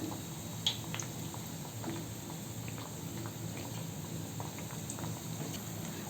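Mini badusha sweets frying in hot oil, a steady low bubbling sizzle with faint crackles and pops running evenly throughout, fairly quiet and close.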